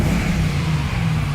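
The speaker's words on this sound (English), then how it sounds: "We have a simply amazing engine here. This engine is a great testimonial to the Mercedes quality." Mercedes-AMG C43 engine running at a steady idle, a continuous low rumble with a smooth, even hum, close and moderately loud with no voices.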